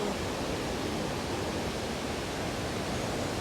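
Steady broadband rush of Pa Nuea waterfall in rainy-season forest, continuous and fairly loud with no talk over it.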